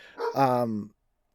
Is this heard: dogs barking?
yes